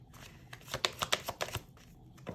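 Cards being riffled and shuffled in a run of quick, crisp bursts, close by, with a brief rustle trailing off at the end.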